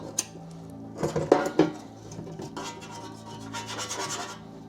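A 3D printed scraper rubs and grates against baked-on grease in an air fryer basket, with short bursts of harsh scraping and clinks of metal against plastic, close and fairly loud.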